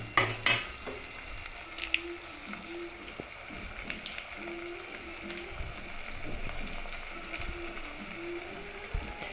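Gravy with ginger garlic paste sautéing in a pan, a low sizzle under repeated scraping stir strokes, a few sharp utensil clanks and a faint tonal hum in the background.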